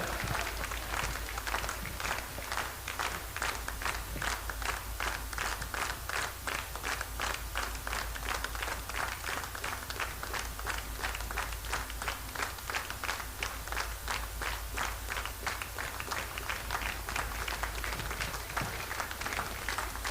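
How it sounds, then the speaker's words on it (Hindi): Applause and cheering from a crowd at the grand finale of a dance competition fill the whole stretch, a dense steady clatter of many hands with no break. "सर के लिए जोरदार तालियां हो जाए।"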